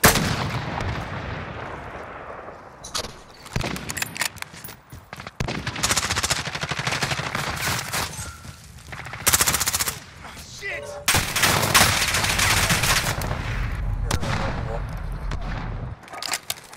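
Modern Warfare gunfire: repeated loud, dense bursts of shots and explosive booms in close succession with brief lulls between, game audio filling the whole stretch, with a voice faintly present underneath.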